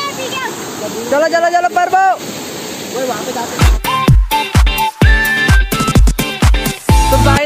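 A mountain stream in Uttarakhand runs as a loud, constant rush of water close by. Excited voices talk over it almost all the way through.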